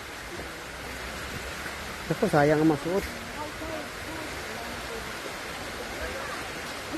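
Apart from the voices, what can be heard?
rain falling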